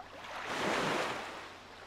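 Boat sailing on the sea with the Swift Sail in the video game Zelda: Wind Waker HD, a soft rushing wash of water and wind that swells and fades once over two seconds.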